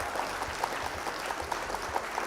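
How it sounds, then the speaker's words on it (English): During a Flesh and Blood card game session, applause for the opponent comes across as a fairly quiet, even patter of clapping with soft, regular thumps underneath. "Round of applause for our opponent"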